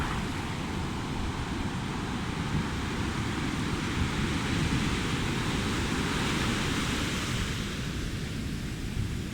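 Pacific Ocean surf rolls in as a steady, broad wash of breaking waves with wind noise on the microphone, continuous and fairly loud, no voices.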